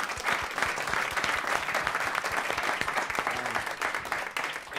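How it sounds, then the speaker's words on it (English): Audience applauding five panelists after a theater discussion event at a radio station, a steady mass of clapping with individual sharp claps standing out, tapering slightly at the end. "I'd love to thank all five of our panelists with a big round of applause"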